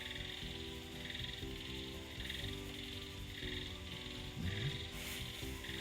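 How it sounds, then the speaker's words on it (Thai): Frogs and toads croak behind a house after a day of rain, a steady chorus of repeated croaks with a high trilling layer, moderately near and without talk. "หลังบ้านครูก็เริ่มมีเสียงกบเสียงเขียด เสียงอึ่งอ่างดังขึ้นนะเพราะวันนี้ฝนตกทั้งวันเลย"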